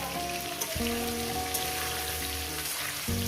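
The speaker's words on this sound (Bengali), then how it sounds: "এই আলু কলা ভাজতে ভাজতেই আমি হলুদটা দিয়ে দেবো হলুদটা দিয়ে ভাজবো" Potato and green banana pieces fry with turmeric in a pan, giving a steady, dense sizzling hiss throughout, with faint tonal background sound underneath.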